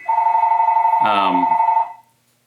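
A telephone rings with a steady electronic warble that holds for about two seconds, a second lower tone overlapping midway, then stops abruptly and leaves silence.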